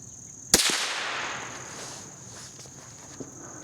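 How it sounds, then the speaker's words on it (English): A sharp, loud crack from a vintage .22 rifle shot rings out once and decays, followed a moment later by a faint distant pop of the bullet striking a can downrange 100 yards away. "You can hear a real loud audible pop when that bullet makes impact"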